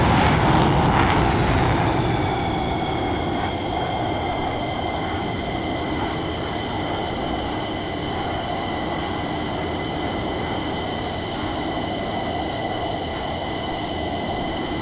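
An F-15 jet in flight near Salinas and Monterey holds a constant loud engine roar with steady whining tones. It is slightly stronger for the first two seconds and then stays even and unbroken, with no one talking.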